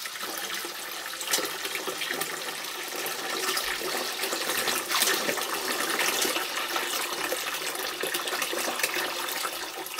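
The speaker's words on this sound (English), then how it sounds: "cool water to the fermenter up into the 6 US gallon mark" Reverse-osmosis water pours steadily into a fermenter bucket, a continuous splashing gush lasting throughout with no voices.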